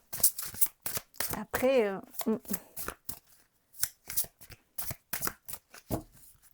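A deck of oracle cards is shuffled in short, crisp riffling bursts repeated over several seconds, close and clear, interleaved with someone speaking French softly between and over the shuffles.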